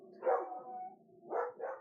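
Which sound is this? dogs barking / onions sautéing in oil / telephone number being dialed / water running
dogs barking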